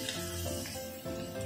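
Potatoes frying in hot oil for a village-style katla fish curry, giving a steady, close sizzle that runs without a break, with no talking over it.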